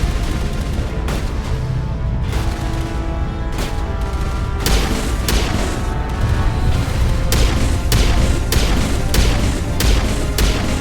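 Rapid bursts of turret gunfire and heavy booms in the Mass Effect video game, loud and dense, with repeated sharp shots and explosions running throughout without speech.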